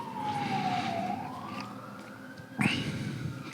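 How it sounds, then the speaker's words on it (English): A siren wails, its tone sliding down then climbing back up, followed by a sharp rising whoop near the end; no talking. "Siren."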